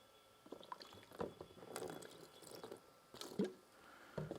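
Water is poured and splashed onto rust-removing powder sprinkled over a metal surface, giving faint, close trickles and wet drips in short irregular bursts.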